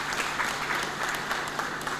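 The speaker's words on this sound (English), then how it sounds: "Let us clap for him." Mourners at a memorial service for a late judge, held in a church, give a sustained round of dense applause, steady and fairly close with no talking.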